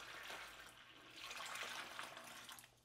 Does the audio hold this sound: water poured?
yes